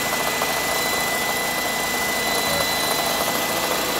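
A 1996 Mercedes-Benz C220 with a 2.2-liter engine idling, a steady, close engine hum with a faint high whine, unchanging throughout with no talking.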